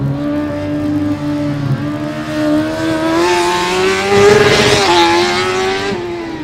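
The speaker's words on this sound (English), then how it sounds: "car number 58 is just accelerating down the final straight" A Formula Student race car in an autocross event accelerates hard down a straight, its engine note rising steadily in pitch and loudness for several seconds before briefly dropping on a gearshift and climbing again.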